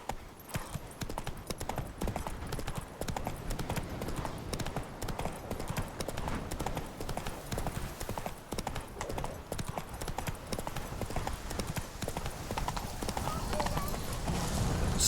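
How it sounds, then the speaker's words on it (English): Horse hooves in the video game The Witcher 3 clip-clop in a rapid, steady rhythm throughout, moderately loud, with a neigh and spoken dialogue over the hoofbeats. "Whoa there, Roach"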